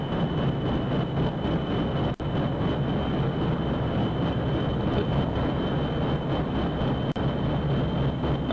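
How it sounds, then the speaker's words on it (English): Steady, loud video game jet engine roar from Kerbal Space Program, holding constant throughout, with a couple of brief clicks cutting through the drone. "Jet engines sound like they're speeding up a bit now"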